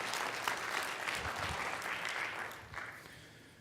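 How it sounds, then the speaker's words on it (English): Sustained audience applause at a social networking talk, a dense steady clatter of many hands clapping throughout, fairly loud and close, with no speech over it. "please give them a round of applause"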